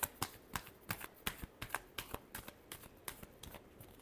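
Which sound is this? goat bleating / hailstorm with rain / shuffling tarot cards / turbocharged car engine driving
shuffling tarot cards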